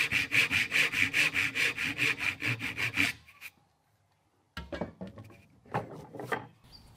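A hand saw rasps through wood in a steady run of rhythmic back-and-forth strokes, cutting vertical dovetails for an egg holder, close and loud for about three seconds, then silence and a few scraping, shuffling sounds as work continues.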